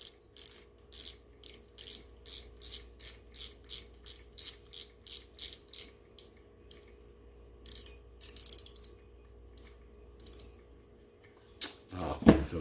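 A drag key being screwed back onto a fishing reel, a close rhythmic ratcheting click in repeated short bursts with pauses, ending in a brief clatter.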